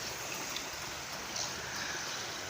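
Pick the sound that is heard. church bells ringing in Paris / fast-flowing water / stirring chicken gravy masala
fast-flowing water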